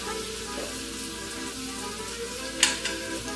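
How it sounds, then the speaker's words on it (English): Butter sizzles with green beans in a pan, a steady close frying hiss running throughout, with a couple of brief sharper crackles near the end. "I'm going to add about a teaspoonful of butter"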